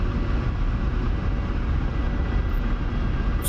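Ka-50 Black Shark coaxial helicopter in flight in the DCS combat flight simulator, a steady loud rotor-and-turbine roar holding constant throughout with dense low rumble and no voices.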